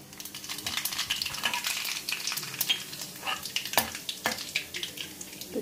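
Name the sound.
cumin and mustard seeds frying in peanut oil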